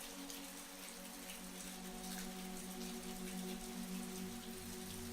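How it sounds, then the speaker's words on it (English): Rain falls steadily outside a hotel at night, a soft continuous patter heard faintly and evenly throughout with a low hum beneath. "The rain continued to fall outside"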